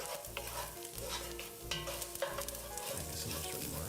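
Onions frying in a pan while being stirred, a close sizzle with scraping and clacking utensil strokes in short uneven bursts, no speech.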